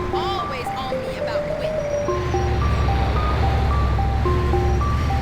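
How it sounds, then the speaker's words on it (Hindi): A melody plays from the ice cream truck in GTA 4, the game's main theme in bright, tonal notes. It sounds steady and fairly loud over continuous low vehicle rumble. "जो आइसक्रीम ट्रक आप लोग GTA 4 में चलाते हो उसको अगर आप लोग ध्यान से सुनोगे तो वो GTA 4 का मेन थीम ही बजाता है।"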